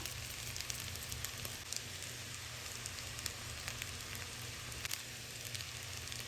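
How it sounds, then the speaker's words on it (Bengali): Vegetables for a vegetarian chow mein stir-frying lightly in a pan, a quiet steady sizzle with scattered crackles and pops, faint and continuous throughout with no talking. "সবজির সাথে একটুখানি নেড়ে চেড়ে হালকা ভেজে নেব।"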